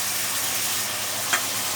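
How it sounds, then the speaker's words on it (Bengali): Fried potato pieces dropped into hot oil and spice masala for a Bengali fish curry, giving a steady close sizzle with a short sharp crackle partway through. "তখন আমার ভাজা আলুগুলো আস্তে আস্তে করে ওর মধ্যে দিয়ে দেবো"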